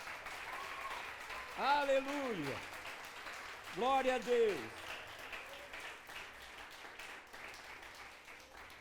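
Church congregation applauding: a continuous soft wash of clapping throughout, moderately distant, under someone loudly shouting praise twice.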